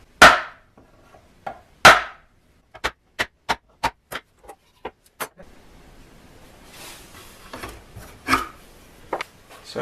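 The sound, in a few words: punching center holes in wood for screws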